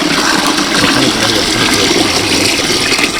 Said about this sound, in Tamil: இப்போ வந்து நான் தண்ணி ஊற்றிட்டேன்.